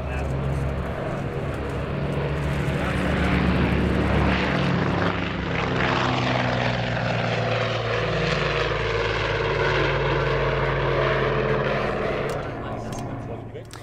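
A Canadair CL-215 water bomber carrying a water load arrives at an airshow, its radial piston engines and propellers droning loud and close, swelling then holding steady before easing off at the end.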